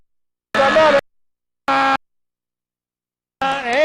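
Buzzer sounding at the end of a Cleveland women's basketball game: three loud, steady electronic blasts, each about half a second long, separated by silent gaps.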